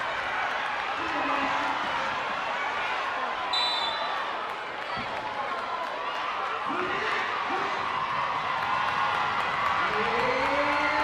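Crowd noise fills a high school girls' basketball gym with a steady roar and scattered shouts. Sneakers squeak on the court, and a commentator talks over it all.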